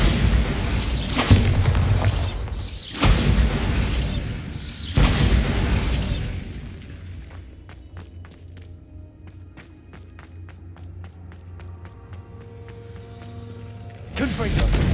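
Bombarda, the explosion spell in Hogwarts Legacy, sets off several loud booming blasts in quick succession. A quieter stretch of clinking, crackling debris follows, then one last sharp burst at the end.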